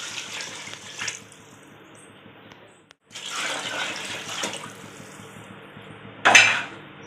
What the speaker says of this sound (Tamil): இப்போ இதில் ரெண்டு கப் அளவு தண்ணி சேர்த்துக்குவோம்